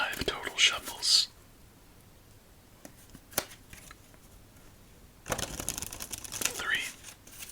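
Playing cards are shuffled in close, crisp riffling bursts, one at the start and another near the end, with soft whispering in between.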